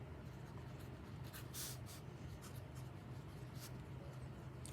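A Pilot Metropolitan fountain pen with a medium nib scratches softly across paper in a steady, faint close-up stroke with a few brighter flicks.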